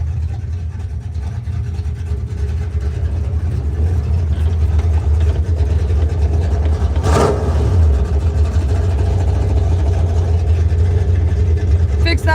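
Car engine with an exhaust leak idles loudly and steadily close by, a deep rumble running throughout with a brief sharper burst near the middle.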